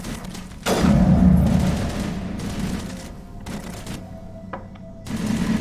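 Rapid bursts of gunfire from the video game Mass Effect, fired while charging an enemy, loud and close with a heavy opening volley, then quieter shots and a final burst near the end.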